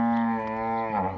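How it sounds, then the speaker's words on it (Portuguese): A cow moos in one long, loud, sustained bellow, close by and alone, with a slight drop in pitch near the end. "A gente tá gravando enquanto a nossa vaca tá berrando."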